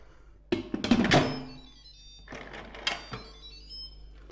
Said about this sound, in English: Then you twist on the lid.